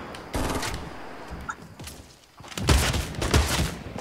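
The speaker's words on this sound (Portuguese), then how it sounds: "Acertei dois tiros nele." Bursts of gunfire from a Fortnite match, with scattered single shots early then a dense cluster of loud shots near the end, mixed with game effects and thuds.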